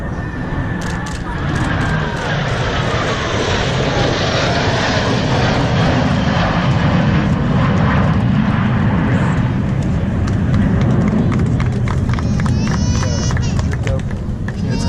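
Blue Angels jet aircraft at an air show practice over Pensacola, Florida, give a loud, continuous engine roar that fills the whole stretch, with a crowd and commentary faintly underneath.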